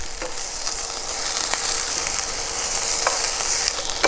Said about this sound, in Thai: ผัดจนกว่าหมูจะเริ่มสุกนะครับ